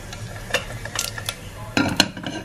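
Soft sizzling of cumin seeds in hot ghee with a few light clinks and scrapes of a spoon against a pan, close by.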